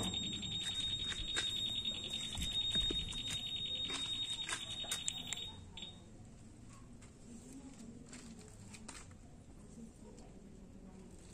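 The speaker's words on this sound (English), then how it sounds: "alarm." A keyless alarm module fitted to a Honda Beat 2021 motorcycle sounds a loud, steady high electronic tone for about five seconds, then stops, leaving quieter clicks and background noise.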